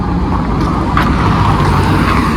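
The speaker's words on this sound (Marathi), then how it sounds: "आली गाडी, आली" A vehicle pulling in to stop nearby, heard as a loud, steady engine and road rumble that fills the clip without a break.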